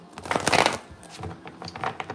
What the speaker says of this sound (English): Let me shuffle this. I'm using the Lover's Path Tarot.